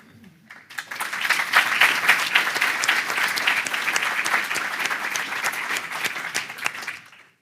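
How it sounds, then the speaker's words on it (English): Loud, sustained applause and whooping from an awards-ceremony audience, a dense wash of clapping with cheers rising over it for about six seconds before stopping abruptly. "So we want lots of whooping and clapping."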